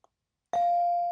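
A single electronic bell tone ends the toss-up round at a high school quiz show quarterfinal, striking once and sustaining loudly and steadily, preceded by a faint brief tick.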